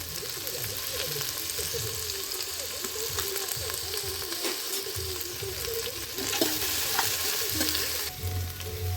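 Small shallots, dried red chillies and a piece of cinnamon sautéing in oil for duck curry, with a close dense sizzle, stirring scrapes and a low rumble near the end, no voices.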